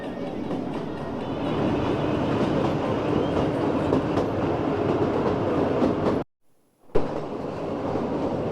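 The Kalka–Shimla toy train runs along its mountain railway with a loud, steady rumble and rattling clatter of wheels and carriages, broken by a sudden brief silence before the roar resumes.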